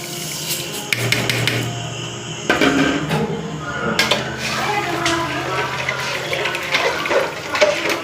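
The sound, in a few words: water boiling in pot for making kesari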